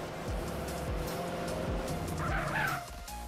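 Car engine in the video game GTA San Andreas Definitive Edition, a steady revving drone with repeated gear-shift dips and a brief tire squeal near the end, heard alone without talk.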